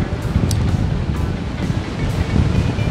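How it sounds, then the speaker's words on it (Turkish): Wind rushes past during a tandem paragliding flight, a steady loud roar of air with some gusting and no talking. "rüzgar sesi var"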